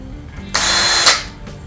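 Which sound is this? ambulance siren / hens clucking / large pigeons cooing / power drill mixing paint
power drill mixing paint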